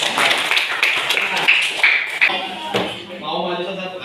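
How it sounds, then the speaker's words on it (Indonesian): A classroom of pupils clapping hands for their teacher, a fast burst of sharp claps close by, with talk under it and at the end. "Tepuk tangan buat Bapak."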